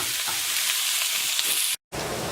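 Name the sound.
onions and mushrooms frying in pan for chicken marsala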